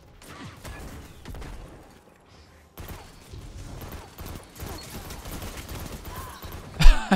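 Grenade launcher firing and impacts in Destiny 2, a run of muffled thumps and blasts with mechanical clicks between them, ending in a louder close hit.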